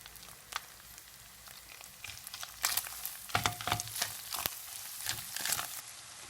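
Minced meat and onion hit hot oil in a pan and start to sizzle, with a soft hiss building into louder crackling bursts and scraping stirs, close and unaccompanied by talk.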